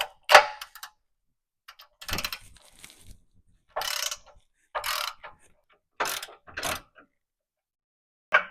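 Ratcheting clicks and metallic clanks come from a breaker bar and 24mm socket loosening the two large tow hook fasteners on a RAM 3500 Cummins pickup, in several separate bursts with pauses of silence between them.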